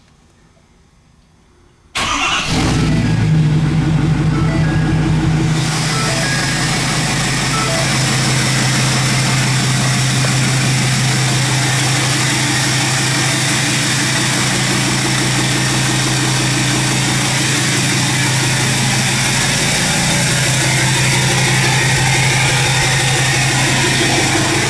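2017 Ford F350 truck engine cranks and fires after a quiet moment, then settles into a loud, steady idle with a deep rumble running for over twenty seconds.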